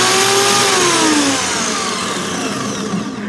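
Portable band saw running freely, a loud whining motor tone that spins up and then settles into a steady hum with no cutting, heard alone at close range.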